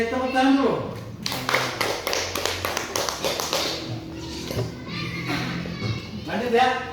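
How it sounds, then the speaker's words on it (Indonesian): A classroom of fifth-grade schoolchildren bursts into a few seconds of rapid, dense clapping during a math lesson, with a teacher speaking before and children's voices mixed in. "Oke, tepuk tangan dulu."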